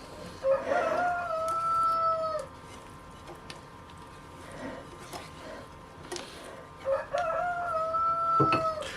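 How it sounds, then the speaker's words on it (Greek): A rooster crows twice in a home setting, each call a long two-tone cry with a gap of several seconds between them, over quiet room noise and faint clucking. "Ο κόκορας έχει ξεσαλώσει, μιλάμε."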